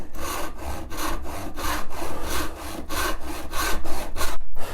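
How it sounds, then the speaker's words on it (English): A hand saw cuts pallet wood with brisk, even back-and-forth strokes, about two per second, loud and close with a raspy bite on each pass. "Draw the saw towards you at 10 degrees to horizontal."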